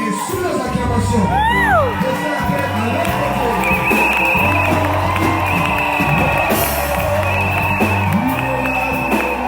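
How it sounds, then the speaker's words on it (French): A church crowd cheers and shouts continuously at an event welcoming an international evangelist, with whoops, high children's shouts and loud voices mixing throughout, full and steady from start to end. "Et sous les acclamations"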